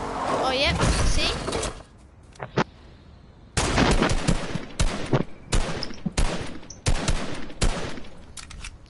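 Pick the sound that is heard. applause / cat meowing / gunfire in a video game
gunfire in a video game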